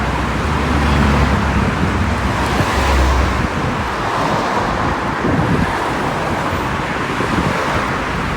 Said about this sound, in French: Il y a beaucoup de circulation.